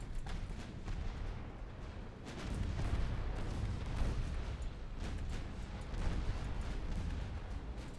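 Destroyers lay down covering gunfire in a naval battle in Ultimate Admiral Dreadnoughts, a sustained rumbling barrage of overlapping booms that swells and recedes for several seconds, with no talking over it.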